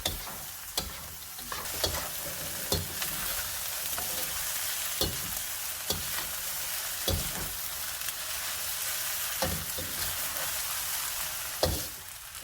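Fried rice with meat and scallion greens stir-fried in a hot pan, a continuous close sizzle broken by repeated sharp scraping strokes of a utensil at an uneven rhythm.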